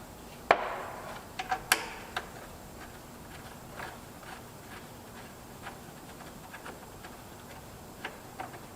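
A 1/2-inch ratchet with a 13mm socket works loose the oil drain plug on a Dodge Ram Hemi. A sharp metallic clack comes first, then a few sparse, light ticking clicks nearby, with no speech.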